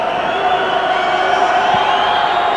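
Crowd at Old Trafford cheering a successful penalty kick by Workington Town in a 1993 rugby league Divisional Premiership match against Featherstone, a steady, loud, far-off roar that holds for the whole stretch.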